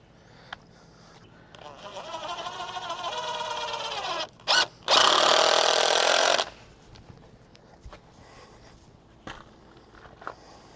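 A power drill whines in a sustained burst as it drives into a board, close and loud, during a crawl space access door build, with short mechanical noises around it.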